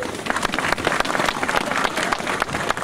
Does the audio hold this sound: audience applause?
yes